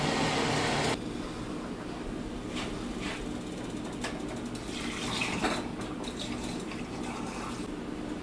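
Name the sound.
pouring scalding water over canning jar lids and rings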